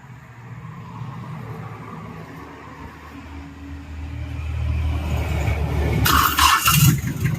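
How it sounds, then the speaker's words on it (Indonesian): A Mitsubishi 4D30 diesel engine, just rebuilt with its timing gear reassembled, cranks and catches, rising from a low churn into a louder running rumble with a brief hissing squeal near the end. "Oke, coba kita starter kembali."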